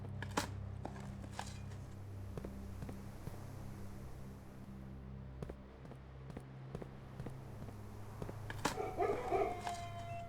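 Dogs barking in the video game Blue Prince: a series of short, sharp barks scattered over a steady low musical hum, with a brighter cluster of sound near the end.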